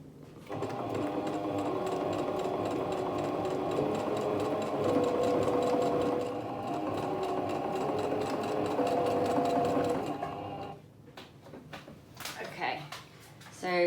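Sewing machine stitching trimmings onto a fabric bag, a steady continuous motor whir running for about ten seconds before stopping, followed by a few brief clicks and handling sounds.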